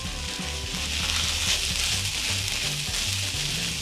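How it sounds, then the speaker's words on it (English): Four or five small chopped mushrooms frying together in a pan, a steady close sizzle running evenly throughout. "I just chopped something like 4 or 5 small mushrooms, and I'm gonna fry them all together very well"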